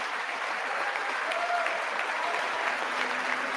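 Steady, dense applause from a rally audience fills the space, a continuous wash of clapping with a few faint voices mixed in.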